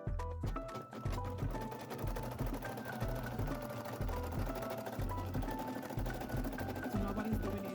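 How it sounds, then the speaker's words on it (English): A Brother SE1900 embroidery machine stitches blue stars on a baby t-shirt, producing a fast, steady mechanical rhythm of needle strikes with faint tonal whirring, close and continuous throughout. "So now what he's doing is embroidering the stars, the blue stars."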